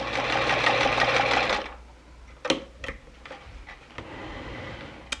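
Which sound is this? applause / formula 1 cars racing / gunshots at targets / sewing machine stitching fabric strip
sewing machine stitching fabric strip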